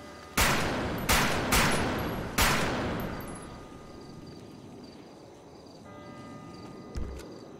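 Four sharp pistol shots ring out in a roleplay video game, loud and close in an uneven rhythm, each with a short fading tail, then a quieter stretch with one soft thump near the end.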